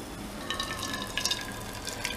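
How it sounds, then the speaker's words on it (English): Melted jaggery syrup is poured through a strainer, making a soft, continuous trickling and splashing of liquid with light drips, heard close and fairly quiet. "Pass it through a filter or strainer."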